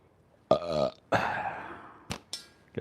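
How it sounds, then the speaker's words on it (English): A person gives two loud, drawn-out burps close to the microphone, the first short and the second longer, followed by a couple of brief clicks, during a break from speed shooting a slingshot. "Got to stop for a burp break in the middle of a speed shoot."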